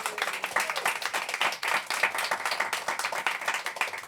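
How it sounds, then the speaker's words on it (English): Audience applause with dense, steady clapping from a crowd, sustained evenly for several seconds at moderate loudness with no talk over it. "Can I have a little round of applause for Karen Amat-Mukrim?"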